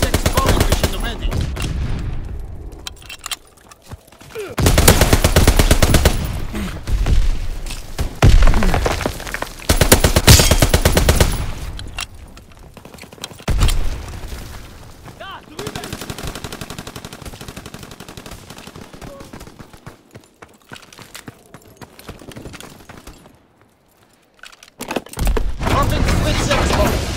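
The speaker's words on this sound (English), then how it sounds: "Gunfight concluded." Sustained gunfights in a Call of Duty: WWII team deathmatch on the Gröstenhaus map, with loud bursts of automatic fire alternating with quieter stretches of distant shots, plus occasional radio-style voice callouts.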